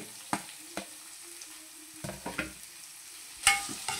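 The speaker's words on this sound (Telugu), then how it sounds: "నేను ఒక 4 ఉల్లిపాయలు చిన్నగా ముక్కలు కట్ చేసుకున్నాను, అవి వేసేసుకుందాము" Chopped onions and green chillies fry quietly in a pan for a prawn peel curry, a faint sizzle punctuated by scattered utensil taps and scraping stirs, with a sharper clank near the end.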